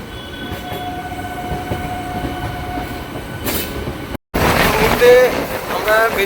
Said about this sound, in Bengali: আর ট্রেন ছুটে যাচ্ছে একদম আমঘাটার দিকে, কৃষ্ণনগর হয়ে আমঘাটা যাবে।